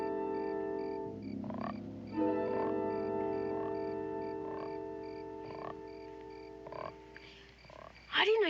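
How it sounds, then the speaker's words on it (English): A frog croaks repeatedly in a television western scene, with rhythmic pulsed calls over steady tonal background music and a brief louder sound near the end. "I didn't know you had a frog."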